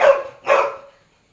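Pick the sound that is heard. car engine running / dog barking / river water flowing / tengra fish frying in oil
dog barking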